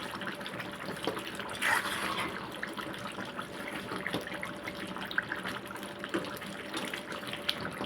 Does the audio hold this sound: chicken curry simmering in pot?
yes